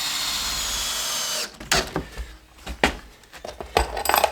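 Power drill driving long heavy screws through a wall's bottom plate down into the subfloor while renovating an old mobile home, with a steady whir at first, then several short bursts and clunks close by.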